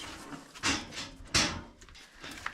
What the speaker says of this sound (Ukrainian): Так, я відкриваю двері.